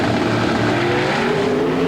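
Pro stock drag racing cars launching side by side down the strip at an IHRA national event in Nebraska, a loud, continuous engine roar with a harmonic howl that climbs steadily in pitch as the cars accelerate away.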